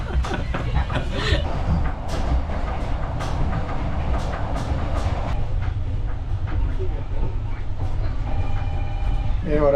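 Steady rumble and rattle of a train rolling on rails, heard from inside the carriage, with rhythmic clicks and jolts running continuously throughout.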